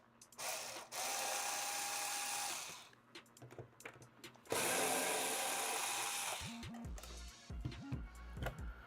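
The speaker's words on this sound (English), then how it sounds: "Where is my drill? The Black & Decker." A Black & Decker drill whirs up twice in long bursts, then gives several short stuttering pulses at the end, close and fairly loud.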